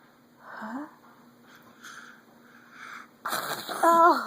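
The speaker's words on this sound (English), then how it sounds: "Fake sneezes." A person fakes a series of sneezes, each a short breathy burst that builds to a sharper, louder one at the end, with a little voiced sound and sniffing in between.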